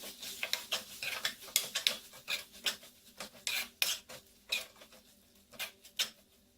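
A spoon stirring Kashmiri chilli powder into a thick egg masala gravy, giving a run of close, soft scraping and rasping strokes against the pan in an irregular rhythm, with no talking.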